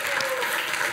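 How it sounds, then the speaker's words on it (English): Audience at a community coffee gathering with the mayor applauds in a brief, dense burst of clapping that is loud and close, with no speech over it. "Give him a round of applause."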